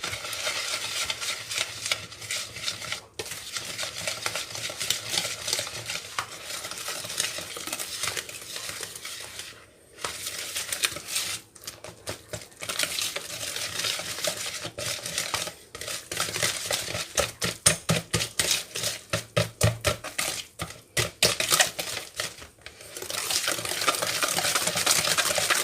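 Eggs are whisked into clafoutis batter for cherry clafoutis, a long run of rapid, close wet stirring and beating against a bowl with brief pauses and a few utensil clinks.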